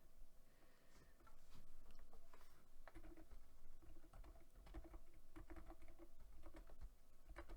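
Rapid typing on a computer keyboard, close and steady, with dense irregular key clicks running throughout and no voices.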